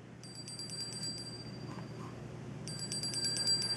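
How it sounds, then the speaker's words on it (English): A Cooklet recipe app timer on a BlackBerry PlayBook tablet rings out a bright, repeating electronic bell when the countdown ends, playing in two bursts over a low steady background hum. "So you can hear that lovely bell saying the timer's up."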